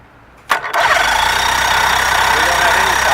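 A Mercury 60 outboard engine cranks, catches and settles into a loud, steady running drone close by, with the start-up burst at the beginning.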